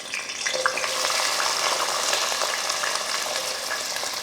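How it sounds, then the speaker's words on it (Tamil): Steady, close sizzling of curry leaves frying in hot oil, a dense crackling hiss that holds throughout with no voices. "எண்ணெய் காஞ்சதும் கொஞ்சம் கருவேப்பிலை,"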